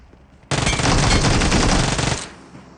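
Automatic gunfire in the mobile battle royale game PUBG Mobile: one loud, dense burst of rapid shots lasting close to two seconds, then a short fading tail.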